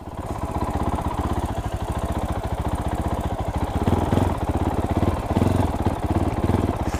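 A Fantic Caballero 500 single-cylinder motorcycle thumps steadily while riding, its close, loud engine pulsing in a rapid, even beat that swells slightly as it pulls harder midway.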